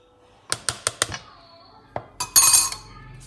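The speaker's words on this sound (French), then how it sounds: "je le mélange avec la farine et je viens faire mon mélange comme ceci" Baking powder being mixed into flour in a bowl for an orange cake: a run of four or five sharp utensil taps against the bowl, a lone click, then a brief louder scraping burst, all close and with no talk.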